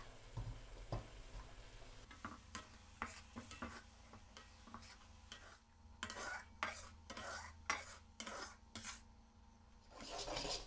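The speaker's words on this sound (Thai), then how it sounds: "เคี่ยวไปเรื่อยๆ จนน้ำตาลละลายดีนะคะ" Sauce simmering in a pan for a Thai fried-egg dish (khai dao look khoei), stirred steadily until the sugar melts, with repeated scraping strokes and clinks of a utensil against the pan over a low bubbling hiss.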